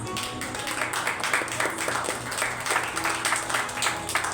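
A crowd at a church service applauds with steady, dense clapping that continues throughout, fairly close and lively.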